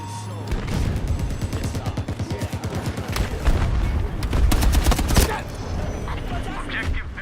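Planted explosives detonate in an online shooter video game, with a dense, sustained barrage of booming blasts and rapid gunfire rolling on for several seconds. Game voice callouts are mixed underneath.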